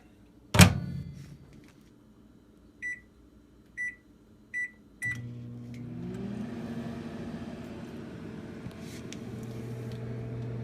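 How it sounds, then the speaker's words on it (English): A microwave oven, melting cheese, shuts with a thump and gives four short beeps as it is set, then starts up with a steady, close hum that runs on alone. "Only use the microwave to melt your cheese."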